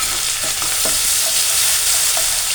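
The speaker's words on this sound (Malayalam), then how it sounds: "ഇഞ്ചി, വെളുത്തുള്ളി ഇതെല്ലാം കൂടിയിട്ട് നമുക്കൊന്ന് ശരിക്കൊന്ന് മൂപ്പിക്കാം" Ginger, garlic and roasted crushed coconut sizzle steadily in a hot pan, a continuous frying hiss broken by a few soft stirring scrapes, close and moderately loud with no talking.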